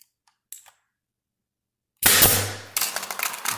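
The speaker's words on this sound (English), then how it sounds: "I like to just shoot one little nail right into the corner." A nail gun fires a single small nail into a rounded trim corner, producing one sharp, loud pop after a brief faint click and silence, then rattling handling noise.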